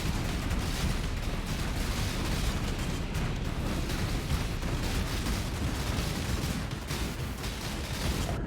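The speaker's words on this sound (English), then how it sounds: "I think I stood a little bit too close to that explosion." A video game explosion erupts as a loud, sustained blast-and-rumble, filling the whole stretch with dense roaring noise and no clear pauses.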